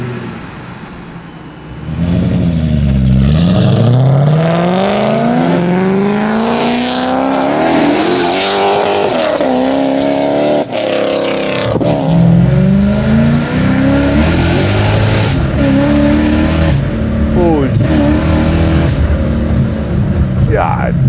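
A supercharged V8-swapped BMW E30 revs hard and loud, its engine note climbing and dropping through repeated sweeping pulls up close, with a few brief gaps between runs.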